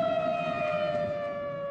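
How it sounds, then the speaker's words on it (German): Tornado warning sirens wail across a city, a loud, steady sustained tone with stacked harmonics that holds without a break and drifts slightly downward in pitch. "Innerhalb weniger Minuten schrillen in der gesamten Stadt die Sirenen."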